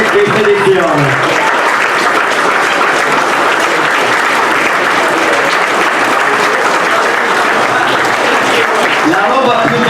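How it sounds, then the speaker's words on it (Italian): A gala audience applauds staff and motorcyclists at an Italian motorcycle event, sustained dense clapping filling the room for the whole stretch, with voices faintly mixed in beneath it. "applauso al nostro staff e applauso ai motociclisti"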